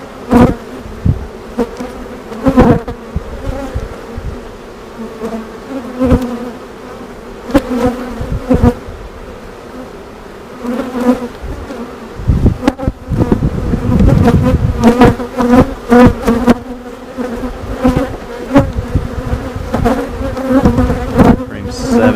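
Loud, steady buzzing of honey bees around an open hive during a frame inspection, close up, with sharp knocks and handling noises breaking through and a denser swell of buzzing partway through.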